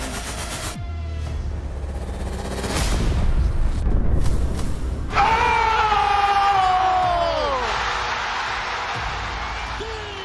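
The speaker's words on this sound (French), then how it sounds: "Les supporters hurlent de joie." Basketball fans at the Raptors arena roar in a huge, sustained crowd eruption after the game-winning shot against Philadelphia in 2019, with whoops and screams swelling and holding loud for several seconds after earlier booming thuds.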